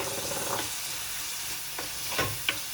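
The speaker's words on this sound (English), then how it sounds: "So I'm just going to add my pulp tomato inside." Tomato pulp goes into a pan of cooking corn, raising a steady close sizzle and frying hiss with a few stirring scrapes and clinks, no voices.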